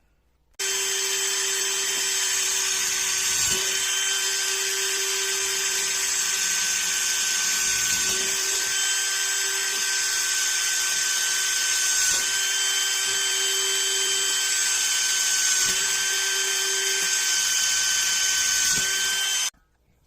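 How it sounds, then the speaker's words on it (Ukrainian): A small power drill with a 1 mm bit drilling holes in a SOKANY SK YM 7034 meat chopper part: a steady high-pitched whine running continuously for about nineteen seconds, close and even, starting and stopping abruptly. "Шилом накірнити і дрібним сверлом спочатку, десь 1 мм. Все просверлити."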